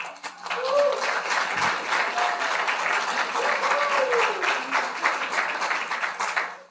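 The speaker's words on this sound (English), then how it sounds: "Not sure what you're clapping for" An audience claps after a talk, steady close applause lasting several seconds with a few voices calling out under it.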